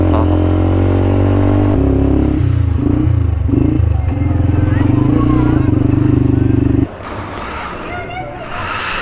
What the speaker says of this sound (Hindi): इंजन चुस चुस हो रहा है